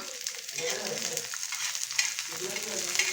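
Peanuts stirred in a hot pan with six or seven garlic cloves for a raw mango thecha, giving a steady close sizzle with scraping stir sounds throughout and no talking.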